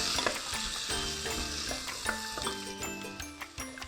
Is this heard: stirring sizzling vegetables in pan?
yes